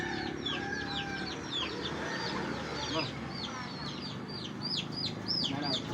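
Several chickens cluck and chirp nearby in a busy, overlapping flock, with a steady low background hum beneath.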